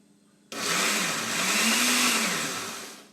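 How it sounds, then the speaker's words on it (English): A food processor pulsing hummus ingredients kicks on suddenly after a quiet start and whirs loudly and continuously for about two and a half seconds, its pitch shifting slightly as the mixture churns. "I'm going to pulse it for a second or two, so it's going to be loud."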